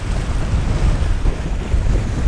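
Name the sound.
strong wind and waves at sea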